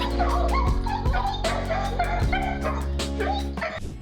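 A dog greeting a returning soldier barks, yips and whimpers excitedly in rapid repeated bursts, close and loud, with voices and background noise underneath.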